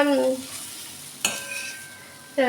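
Spatula scraping and stirring chana dal with grated coconut in a wok, brief sharp clatters over a low background sizzle, with a couple of louder strokes and no speech.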